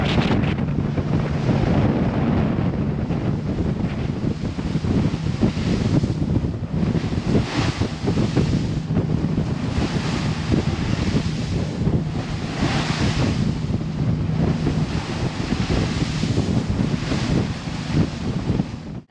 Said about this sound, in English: The waves, my God.